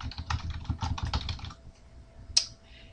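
Keys clatter in a quick burst of typing on a computer keyboard, close and clear, then stop, followed by a single sharp click, with no voices.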